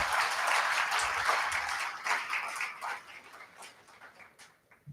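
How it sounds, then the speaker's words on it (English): An audience at an award ceremony claps steadily and fairly loudly, then the applause thins out and fades to near silence. "Let us all clap for them."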